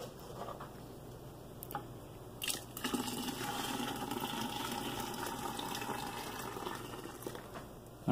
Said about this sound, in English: I'm going to take and go ahead and pour in the soap, which is melted. Just pour it straight in.